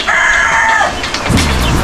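A native chicken crows loudly and close, a single drawn-out call on a farm where turkeys and ducks are kept during the rainy season.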